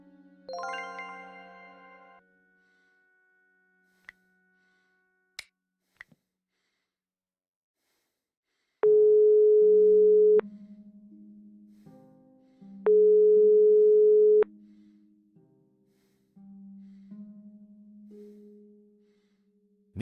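Phone call ringing unanswered in the Broken Sword 5 video game: a few chiming notes, then two long loud electronic ring tones separated by a pause, followed by lower tonal beeps, with silence between.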